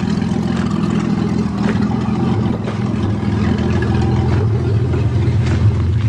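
A 1982 Toyota Cressida drives along, its engine giving a steady, continuous loud drone with road noise throughout and no pauses.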